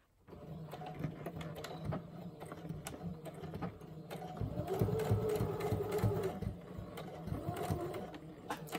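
A sewing machine stitches a line on a fabric tag pocket. Its close, rapid mechanical chatter runs fairly steadily, with brief pauses, and grows louder and denser partway through.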